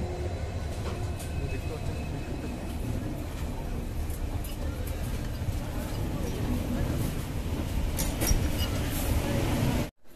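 Howrah–Guwahati Saraighat Express rolling toward Guwahati after Kamakhya Junction, a steady close rumble of the running train with low clattering and rattling throughout, ending in an abrupt cutoff.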